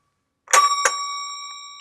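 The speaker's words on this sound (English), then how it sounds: "This is the bell, right?" A small bell is struck twice in quick succession, giving a bright metallic ding that rings on and fades slowly in near silence, close to the listener.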